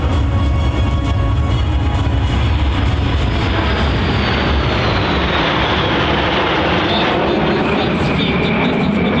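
Frecce Tricolori jets at the New York Airshow make a loud, continuous roar during a low-speed turn with air brakes extended, rising into a steady rush with a slowly shifting pitch.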